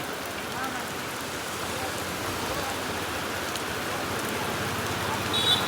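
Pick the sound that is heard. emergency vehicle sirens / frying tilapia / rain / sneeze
rain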